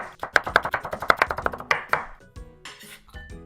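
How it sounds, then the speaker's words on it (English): A kitchen knife slices vegetables into thin strips for kakiage tempura, a quick run of about a dozen crisp, close chops on a cutting board, then slower scattered taps and handling noises as the pieces are moved. "And then cut from the side like this, and then you have these thinner strips."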